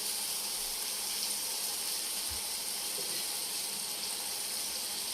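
Water poured into a hot pan of potato and egg curry after chili powder has been fried, giving a steady, even hiss and sizzle for about five seconds with no talking.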